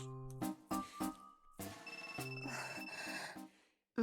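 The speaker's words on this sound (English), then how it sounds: "It's not as if I've even changed my ringtone, but hearing it coming from my pants" Mobile phone ringtone ringing from a pants pocket, a melodic repeating tone pattern in bursts, clear and moderately loud, alone without talk.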